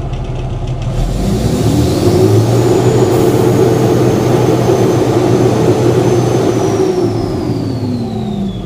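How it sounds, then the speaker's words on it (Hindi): A Mahindra Blazo BS4 truck engine with a torn, leaking silencer is revved lightly: a loud, close diesel drone that rises in pitch, holds for several seconds, then eases back down. "अभी हल्का सा मैं रेस कर रहा हूँ तो हमारा जो साइलेंसर है फटा हुआ सा आवाज़ आ रहा है"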